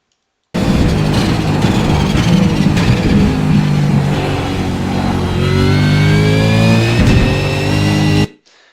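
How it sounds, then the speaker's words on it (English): Race car in a racing video game braking hard and downshifting into second gear at Bathurst, engine note continuous and loud with harmonic sweeps as revs drop and rise, running alone for about eight seconds. "very heavy braking, and we're going to downshift into second gear into the left-hander"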